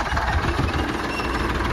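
A tractor and motorbikes idle together in an open field, a steady, dense low engine rumble with a rough knocking texture that holds evenly throughout without any voices.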